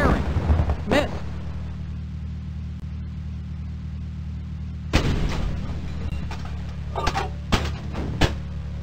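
Tank guns firing in the Microprose WWII game Across the Rhine: a loud close boom with a rolling tail, then a burst of several sharp shots, over a steady low engine drone with no one talking.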